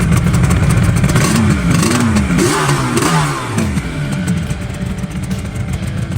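A Yamaha RD400 motorcycle from the 1970s revs hard and loud up close, its engine note climbing and falling through several throttle blips before settling into a steady, rough idle, with no voices.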